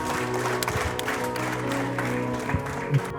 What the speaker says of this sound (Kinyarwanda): Amashyi menshi cyane